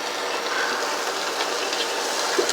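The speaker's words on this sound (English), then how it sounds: "I'm just sauteing them in this little bit of oil in this skillet" Celery, onions, garlic and carrots sizzle in a little oil in a skillet, giving a steady, close, broadband hiss with faint crackles throughout and no talking.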